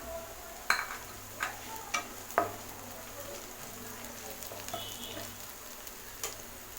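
Green chillies stirred into softened onions frying in a pan for rava kichadi, a steady low sizzle with several sharp scraping clinks of the spoon spaced through the first few seconds and one more near the end.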